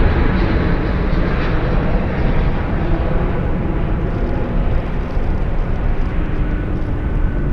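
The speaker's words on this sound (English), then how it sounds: "This departure currently rolling on 18 left. This is 737-800 for American off to San Jose" An American Airlines Boeing 737-800 rolling for takeoff on runway 18 left at Dallas/Fort Worth at night, a heavy steady jet roar that fills the stretch at near-constant loudness with no talking.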